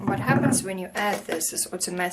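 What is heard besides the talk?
No everyday noises stand out.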